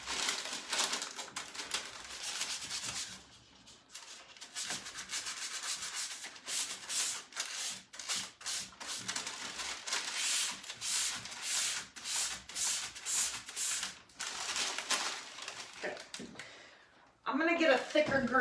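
Sanding block rubbed back and forth over a decoupage-finished furniture piece, a steady run of close, scratchy strokes with brief pauses between passes.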